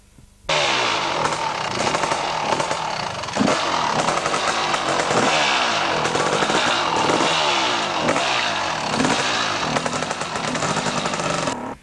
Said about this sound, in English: they're getting off and easing the sidecar down very slowly